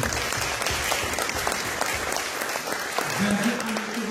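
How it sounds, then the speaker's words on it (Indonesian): A church congregation applauds with dense, steady clapping that continues for several seconds at an even level, and a voice briefly rises over it near the end. "Beri dulu tepuk tangan untuk anak Tuhan."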